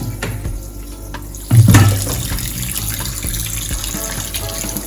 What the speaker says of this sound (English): I'm gonna wash my meat.